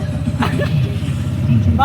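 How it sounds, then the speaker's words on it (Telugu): A moving auto rickshaw's engine on the trip from Tirupati to Tirumala: a steady, close, low putter with voices talking loudly over it. "గ్యాస్ ఇప్పుడు నేను ఆటో నడిపిస్తున్నా."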